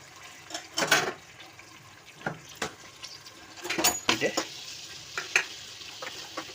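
Onions with cardamom being fried and stirred in a pan for mutton curry, a soft background sizzle broken by sharp spoon scrapes and clatters at irregular intervals.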